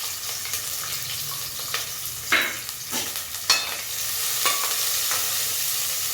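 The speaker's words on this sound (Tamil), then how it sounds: "ஒரு 50 கிராம் சின்ன வெங்காயம், அதையும் சேர்த்து நல்லா வதக்கிடலாம்." Small onions sizzle in a hot pan for chicken sukka while a utensil stirs and scrapes them now and then, the frying hiss continuous underneath.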